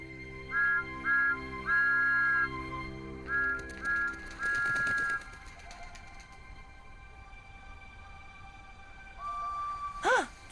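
A cartoon steam engine sounds its whistle in a string of short and long tonal toots, then falls quiet before a final rising whistle near the end, all heard cleanly without talk.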